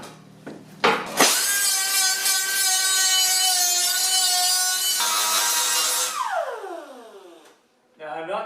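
A small broken cutting wheel on a grinder whines loudly as it grinds down a weld seam on the front bumper of a 1976 Mazda RX, a steady harsh screech for several seconds before spinning down, with tool noise at the edges.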